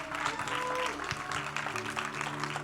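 A church congregation applauding, a steady wash of many hands clapping at moderate distance with some crowd murmur and a voice faintly underneath.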